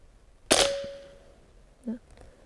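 A single sharp crack from a Barra .177 air rifle firing a pellet at a range, with a brief ringing tail, followed by a faint metallic click.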